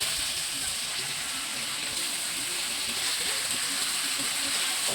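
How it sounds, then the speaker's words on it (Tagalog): Chicken curry simmering in a pot on a home kitchen stove, giving a steady soft bubbling hiss that stays even and continuous throughout, faint and heard alone. "pinapakuluan ko na pala yan"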